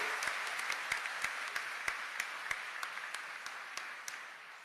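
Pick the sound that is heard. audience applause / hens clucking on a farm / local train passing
audience applause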